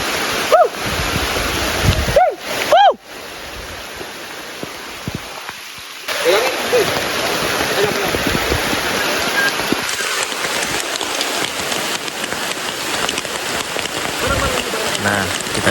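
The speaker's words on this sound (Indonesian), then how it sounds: "kita bisa lihat hujannya semakin deras." Heavy rain pours steadily in a forest beside a river in East Kalimantan, a dense continuous hiss that fills the whole stretch, with a few brief voices and other sounds early on.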